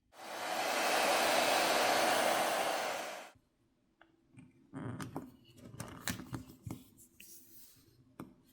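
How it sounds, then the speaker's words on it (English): A hairdryer heats the glass back plate of a Xiaomi Poco X8 Pro phone during a teardown, a loud steady whoosh for about three seconds that then cuts off, followed by small handling clicks and taps. "I prefer to use a hairdryer since there's less of a chance of damaging any of the components inside by overheating them."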